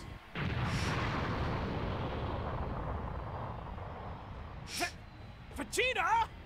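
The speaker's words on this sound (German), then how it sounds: "feuert Vegeta eine Ki-Explosion ab" A long, roaring Ki energy blast from Dragon Ball Sparking! Zero rumbles and slowly fades, followed by sharp whooshing effects and a brief wavering electronic sound near the end.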